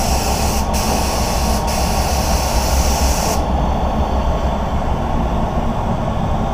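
Spray gun laying clear coat on a car, a loud continuous hiss with two brief interruptions before the spray cuts off, leaving low background rumble.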